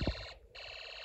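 Rapid, harsh electronic rattling imitating machine-gun fire, produced by a Snap Circuits Extreme SC-750 noise-activated burglar alarm circuit, loud and steady with a short break partway through.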